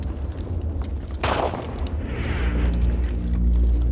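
Battlefield explosions on the World War I front in an Australian war drama: a deep rumbling blast bursts out, followed by rolling booms and a heavy low roar that builds and lingers.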